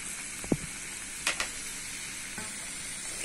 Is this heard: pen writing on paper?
no